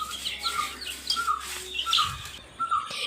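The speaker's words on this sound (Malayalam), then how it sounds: "ഇതാണ് ഞങ്ങളുടെ വീട്ടിലെ കളർ കോഴിക്കുഞ്ഞുങ്ങൾ." Small colored chicks peep in short, high chirps scattered across a quiet room, a few close bursts with light background noise.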